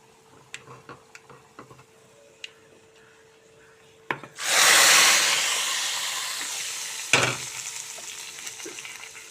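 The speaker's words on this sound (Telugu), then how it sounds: "పక్కనేమో తాలింపు చేస్తున్నాను." A wooden spoon scrapes and rubs in a pan, then a hot tempering for gongura dal bursts into a loud, close sizzle that slowly fades, with a few scattered knocks.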